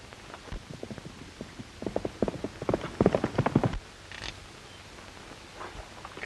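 Horse hooves clip-clop in a quick irregular run of close, sharp strikes on hard ground in a 1936 Western, building and then stopping abruptly, leaving a faint hum.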